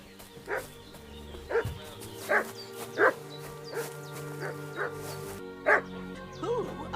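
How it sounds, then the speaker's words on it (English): A dog in a medieval-style video game barks repeatedly in short, evenly spaced yips, each sharp and mid-distance, over soft ambient game sound and no speech. "What's that dog making such a fuss about?"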